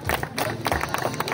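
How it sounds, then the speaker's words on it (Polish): An audience claps for the winner on the podium of the Bieg Ocalony Legion running race in Bieniszew, 2022. The clapping is steady and fairly close, with murmuring voices from the crowd mixed in. "Wielkie brawa dla pana Tomasza."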